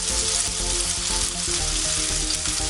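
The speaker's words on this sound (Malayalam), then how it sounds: "ഇനി നമുക്ക് നല്ലപോലെ ഒന്ന് ഫ്രൈ ചെയ്ത് എടുക്കണം" Dried anchovies fry in coconut oil in a pan, giving off a dense, steady crackling sizzle close up with no talking.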